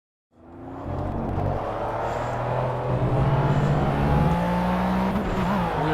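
A McLaren F1 in the racing game Project CARS at Le Mans, its engine droning steadily and loud after a quick onset, with rising pitch as it accelerates through the gears on a hot lap, no voices.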